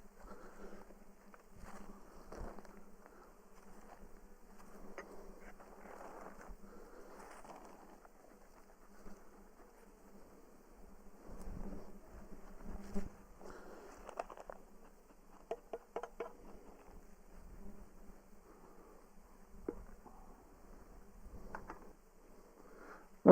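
Honey bees hum around hives as the winter wraps are taken off. The buzzing is faint and steady, with occasional nearby handling bumps and small rustles and no talking.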